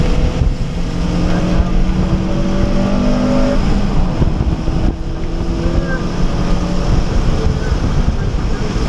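A stock 2011 Honda Civic Si accelerating on a race track during an HPDE driving session, its engine a steady loud drone mixed with heavy wind rush for the whole stretch, with no talk.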